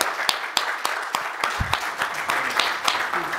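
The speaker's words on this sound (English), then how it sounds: "let's give a round of applause to Kevyn." An audience at a spring lecture-series talk gives a round of applause, a burst of dense, uneven clapping that carries on steadily throughout.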